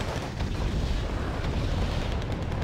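Rumbling blasts and booms as Stinger C missiles bring down Mi-24D helicopters in the strategy game WarGame Red Dragon, a dense, continuous roll of low explosions filling the whole stretch with no pauses.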